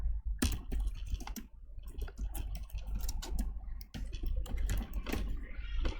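Quick bursts of typing on a computer keyboard while writing a story in Microsoft Word, irregular clattering keystrokes close by with short pauses, no voices.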